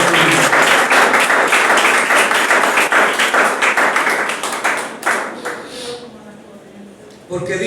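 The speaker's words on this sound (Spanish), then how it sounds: "Dale un aplauso a Cristo." A church audience applauds loudly for several seconds, the dense clapping then thinning and fading into scattered claps.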